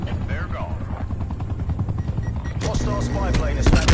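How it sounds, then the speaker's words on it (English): Attack helicopter in Call of Duty multiplayer on PS5: a loud, steady rotor chop mixed with rapid bursts of gunfire, growing busier and louder toward the end. "Attack helicopter available for tasking."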